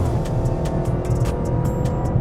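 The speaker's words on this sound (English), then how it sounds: "you just gotta love the American V8" An American V8 muscle car accelerating hard on street tires around the Willow Springs race track, a loud, continuous, close engine roar with a rich, rumbling tone throughout.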